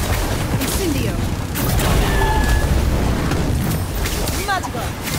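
Magic spell blasts from the Harry Potter Magic Awakened video game: repeated booming, crackling bursts and swooshing effects in a dense, continuous battle soundscape, with voices talking over it throughout.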